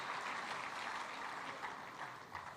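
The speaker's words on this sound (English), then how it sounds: "And a round of applause for all of you." Applause from a business audience at the Commonwealth Business Forum opening ceremony in Kigali, a dense, steady wash of clapping, fairly quiet and distant, easing slightly toward the end.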